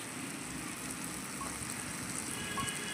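Ginger, garlic and green chili paste frying with softened tomato in a pan on a traditional portable clay stove, cooking for lote fish; a steady, dense sizzling hiss runs close and even throughout with no talking.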